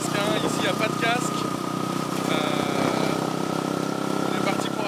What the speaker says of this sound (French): C'est parti pour une petite balade en moto, bien sûr sans casque.